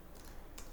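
A few soft, sparse keystrokes on a computer keyboard while code is typed for a JavaScript for-loop lesson, quiet and close, with no talking over them.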